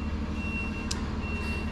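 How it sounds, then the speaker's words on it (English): Vehicle reversing alarm beeping steadily in the background at a building or work site, a faint repeating tone over low, rumbling ambient noise. "Do please excuse the beeping in the back."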